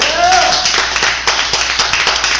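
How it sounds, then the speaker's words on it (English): Comedy show audience giving a round of applause, dense clapping close and loud that tapers slightly over a couple of seconds, with some voices mixed in. "let's give him a round of applause anyway for letting us do this"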